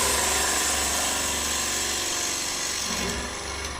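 A wood lathe turns a beginner's ogee bowl at 1400 rpm while a gouge cuts, giving a steady close whirring hiss over a low motor drone, unbroken throughout.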